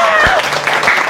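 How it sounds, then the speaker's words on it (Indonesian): A church congregation cheers and applauds in a dense burst of clapping and voices, mixed with a preacher's speech. "Dengan sorak-sorak."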